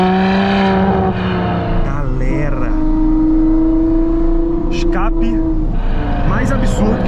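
A Ferrari F12 TDF engine and exhaust roaring steadily under acceleration, a loud sustained droning tone that climbs in pitch, close up, with someone talking excitedly over it.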